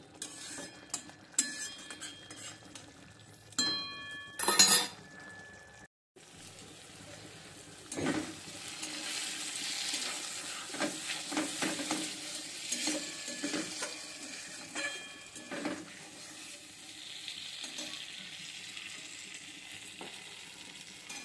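Masala sautés in a small amount of oil for moong dal bhuna khichuri: a soft, continuous sizzle with spoon scrapes, stirring and a few metallic clinks at the start, quiet and without talk.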